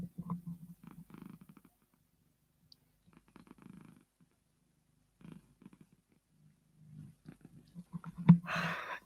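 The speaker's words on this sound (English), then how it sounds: "Did you hear her purring?" A cat purrs close up in soft, rhythmic low rumbles with brief pauses, ending in a louder rustling burst.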